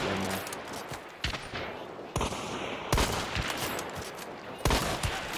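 Gunfire in the video game Hunt: Showdown, several sharp shots spaced a second or so apart, fairly close and loud over a quieter ambient background, with no talking.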